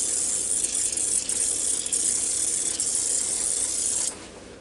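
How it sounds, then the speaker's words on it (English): A steady, close hiss of a spray nozzle misting olive oil onto game hens for about four seconds, then it cuts off, leaving quiet room tone. "I'm going to spray them down a little bit with this olive oil again on this side"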